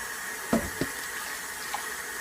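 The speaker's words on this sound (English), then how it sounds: "Basically, I just put water in it, just massage the rice a little bit, rinse." Tap water running into a pot of rice being rinsed, a steady faucet flow with a few soft sloshes and splashes as the grains are stirred by hand, close and alone.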